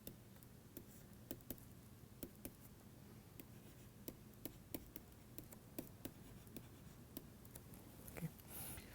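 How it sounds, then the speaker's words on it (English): A pen writes on a board or tablet in quiet, regular taps and scratches, steady strokes spread through the clip, soft and close, with no talk. "let me write that different color."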